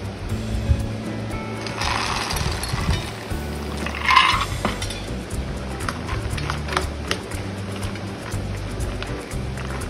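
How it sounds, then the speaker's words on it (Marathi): Peanuts being stirred into a thick spiced batter in a bowl give soft, irregular scraping and squelching sounds. A low, steady background hum runs underneath. "चांगलं मिक्स करून घ्यायचं शेंगदाणे"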